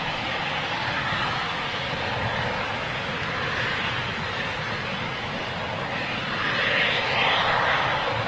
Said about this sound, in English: More jets now starting to appear from under the canopy